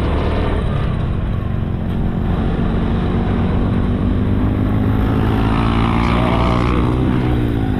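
A motorcycle with a sidecar passing on a steep mountain road near Mt. Apo in Kapatagan, its engine giving a loud, close, steady drone that holds for the whole stretch with no pause.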